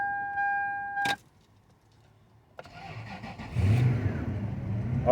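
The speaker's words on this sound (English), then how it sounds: "Car is up and running" A Toyota Sequoia with a broken shifter starts up: a brief starter crank and catch, a short pause, then the engine fires and settles into a rough idle that swells louder toward the end, heard close by.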